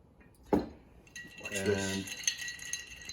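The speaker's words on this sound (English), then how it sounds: "they just start to stir it, and the ice melts" Ice clinks against a glass as ouzo is stirred: one sharp knock, then a brief cluster of bright ringing clinks with a faint voice-like hum underneath.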